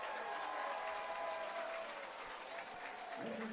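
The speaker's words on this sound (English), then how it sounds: "JJ makes his first appearance with a big round of applause" Big round of applause from a good-sized crowd at an evening baseball game between the Westside Woolly Mammoths and Utica Unicorns, steady and dense throughout with some cheering mixed in.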